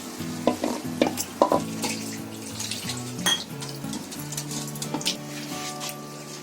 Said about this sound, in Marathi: हे आपलं चांगलं ढवळून घ्यायचं